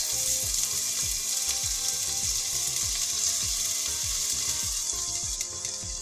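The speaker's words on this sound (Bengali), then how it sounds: "তেল দিয়েছি এখানে 2 টেবিল চামচ, আর এর মাঝে দিচ্ছি আদা কুচি" Chopped ginger sizzles in two tablespoons of hot oil left from frying cauliflower, a steady close hiss broken by regular rhythmic scraping strokes of a spoon.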